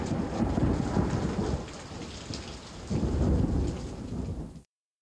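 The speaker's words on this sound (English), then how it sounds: "alone, into the wild storm." Thunderstorm in the PC game Lassie: steady heavy rain hisses on surfaces while deep rolling thunder swells twice, loud and close, before cutting abruptly to silence.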